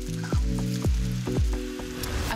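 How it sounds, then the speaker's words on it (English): Egg-soaked bread for French toast sizzles in a hot frying pan, a steady loud crackle broken by several soft low thumps as pieces settle, close and with no talking. "And then I'll pop this in the frying pan."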